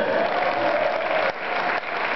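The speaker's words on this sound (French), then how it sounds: "Vous pouvez encore les applaudir très s'il vous plaît" A studio audience gives steady applause, with the dense clapping holding at an even level and dipping briefly twice.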